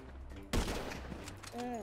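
Gunfire in the video game GTA 5 erupts as a sudden loud burst of shots that trails into rattling reverberation, with game sounds underneath.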